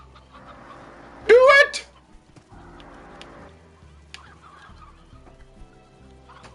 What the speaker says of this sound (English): This chicken is going nuts here.